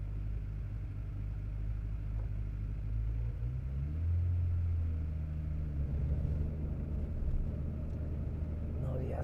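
A restored Nissan Skyline R32 GT-R on the road gives a low, steady engine rumble with road noise, heard from inside the car under ongoing conversation.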